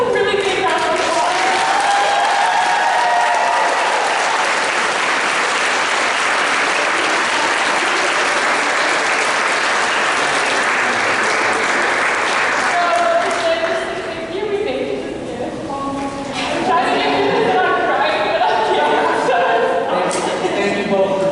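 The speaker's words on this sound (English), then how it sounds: "So everyone can do a really big round of applause." A high school theater crowd after a full play gives a long, loud, dense round of applause that swells and holds steady, easing briefly near the end before picking back up, with voices mixed in.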